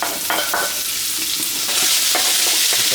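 Crushed garlic stir-frying in hot oil in a wok over high heat, a loud continuous hiss with a few scraping stirs of the utensil against the pan.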